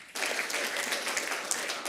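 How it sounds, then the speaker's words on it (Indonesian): A church congregation at a prayer rally breaks into steady, dense applause, many hands clapping together at a moderate distance, filling the room for about two seconds with no talk over it. "Tepuk tangan."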